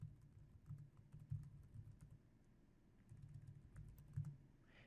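Quiet clusters of computer keyboard keystrokes entering a university name into a link text field, soft rapid tapping in two short bursts with a pause between, no speech.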